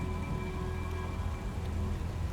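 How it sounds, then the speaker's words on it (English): Steady rain falls in the video game Last Days of Lazarus, a continuous dense hiss with a low rumble underneath and no talk. "It's cold and raining."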